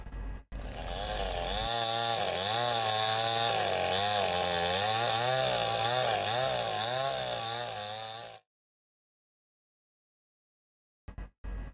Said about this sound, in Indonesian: mesin gergaji yang kita gunakan untuk memotongnya bisa bekerja dengan baik